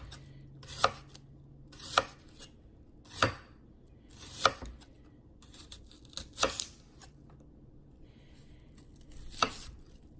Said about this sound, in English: Next, you'll want to slice 2 medium yellow onions.